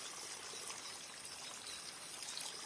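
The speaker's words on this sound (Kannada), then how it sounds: "ನೋಡಿ ಇದು ಒಂದು ಬೋರ್ವೆಲ್ ಬರ್ತೈತೆ" Groundwater gushing up from a formerly dry borewell in Ramanagara makes a steady, hissing pour and splash, close by and continuous with no voices.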